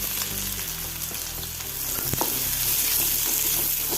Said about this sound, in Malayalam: ചീഞ്ചട്ടിയിൽ രണ്ട് ടേബിൾ സ്പൂൺ ഓയിൽ ഒഴിച്ചിട്ടുണ്ട് ഇനി ഉള്ളി ഇട്ട് കൊടുക്കാം